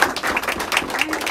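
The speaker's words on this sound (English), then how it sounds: "let's just give another round of applause" A brief burst of clapping from a small gathering at a museum opening reception, uneven and close, lasting just over a second.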